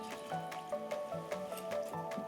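Combined dashi stock poured into rice with salted bamboo shoots for takenoko gohan, a close, soft liquid trickle with small wet drips and squishes, continuous for a couple of seconds.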